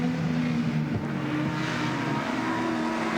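BMW touring race cars on the Mount Panorama circuit at Bathurst produce a continuous engine drone that stays steady and moderately loud.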